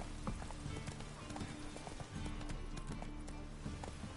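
Roach, the horse in The Witcher 3 video game, gallops with a steady rhythmic clip-clop of hooves, loud and close, over a busy game soundscape with a rider's voice.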